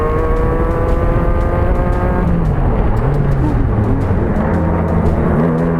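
A fast racing kart's engine screams loud and close at high revs, near 10,700 RPM, then drops in pitch as it brakes hard. The engine keeps droning and fluctuating as it slows.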